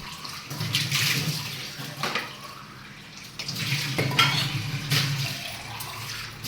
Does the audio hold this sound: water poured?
yes